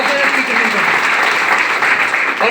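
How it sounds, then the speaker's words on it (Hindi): A crowd claps steadily and loudly throughout, a dense continuous applause with no gaps. "दिल से तालियां।"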